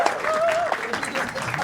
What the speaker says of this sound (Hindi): जोरदार तालियां बजाओ तन्मय भाई man